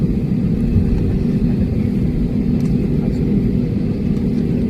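A steady, loud engine roar from an airplane on the runway, heard from inside, with a constant low rumble throughout and no talk.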